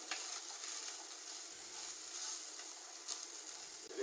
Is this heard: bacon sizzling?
yes